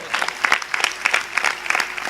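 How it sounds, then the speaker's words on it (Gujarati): A hall audience at a comedy event gives a brief burst of steady applause for the charity service of the Bhuj temple, with dense, even clapping and no talk over it. "એક વખત ભુજ મંદિરને આ સેવા માટે જોરદાર તાળીઓથી વધાવો"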